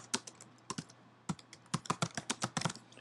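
Keys clatter on a computer keyboard in short irregular bursts, a handful of crisp close taps with brief pauses between words, with no talking.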